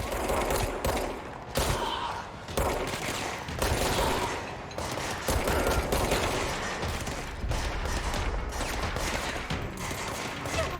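Bursts of gunfire in the video game Control crack out in rapid volleys and single shots, loud and close, with brief pauses between flurries and mechanical clicks mixed in.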